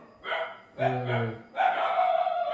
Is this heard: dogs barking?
yes